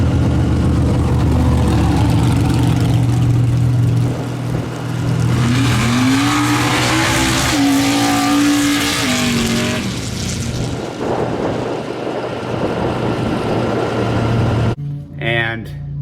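Mud drag truck engine with a failed air shifter bouncing off the rev limiter, a loud, near, sustained high-revving roar that wavers in pitch before cutting out, followed by a brief voice.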